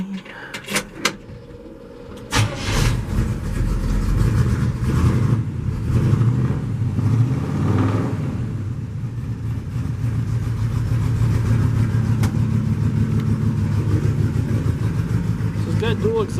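A 1949 Chevy pickup truck, a flatbed custom with dual exhaust, turns over and settles into a steady, rumbling idle close by, with short knocks at the start and people talking over the running engine.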